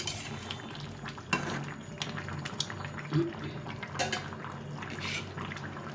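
Fish curry broth with vegetables bubbling in a pot, a faint, steady simmer with a few light utensil clinks and drips.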